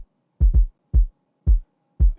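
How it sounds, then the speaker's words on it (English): A low, soft kick drum pattern programmed in FL Studio: five deep thuds in an uneven rhythm, with the first two close together, each a short, boomy hit with clean silence between. "it's just this low calm kick"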